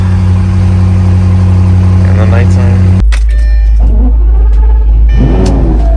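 A Lamborghini engine revs loudly with a steady low drone as it is driven while moving cars at night, cutting to a deeper idle rumble, with people talking over it.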